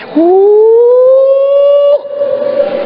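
A voice imitates a siren: a loud, sustained wail that rises and holds steady, then breaks off into a lower continuation.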